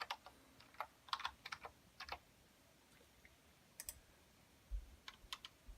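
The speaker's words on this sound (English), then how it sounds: "You can now type information in" Keys clack on a computer keyboard as particle information is typed in bursts of quick taps separated by short pauses, close and quiet with no one talking.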